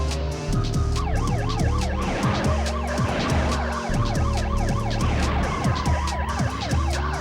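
A police car siren wails in a rapid, continuous warble over a running engine in the PS1 driving game Crime Killer, loud and close throughout.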